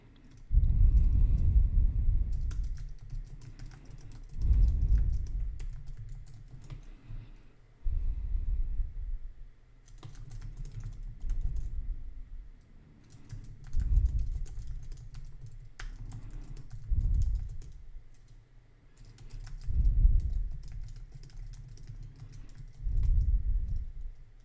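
Computer keyboard keys clatter in irregular bursts of close, soft clicks with short gaps while a zine is arranged on screen, underlaid by a low rumble and no voices.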